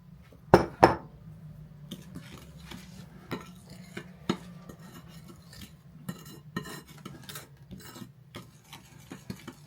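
Thick oatmeal brownie cookie dough being stirred in a bowl, a close, soft rasping scrape repeating irregularly with a couple of sharper knocks of the utensil against the bowl.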